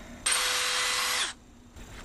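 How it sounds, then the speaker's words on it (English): A power drill drilling a hole in a hitch rack runs in one close, steady, high whine for about a second, winds down briefly and stops, leaving a quiet pause. "I broke the drill bit off in the hole."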